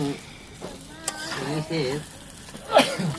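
Meat fries in oil during a rooftop picnic, a soft sizzle running beneath nearby voices, with a brief clatter of stirring toward the end.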